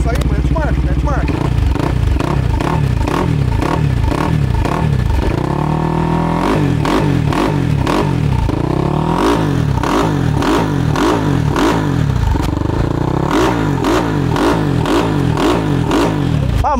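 A 470cc Brava Start motorcycle engine revs hard repeatedly, rising and falling in quick bursts close by, with a person speaking briefly between the revs.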